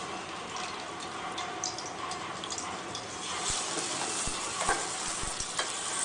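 Potatoes frying in hot ghee for a sweet potato halwa, giving a steady broadband sizzle throughout with a few sharper pops and spatters near the end, close and continuous with no talking.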